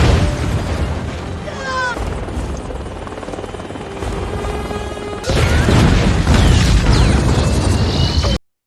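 A bag of grenades explodes on a helicopter in the Fast & Furious 7 film. A loud rotor drone with whooshes gives way to a sudden heavy blast that roars on before cutting off abruptly.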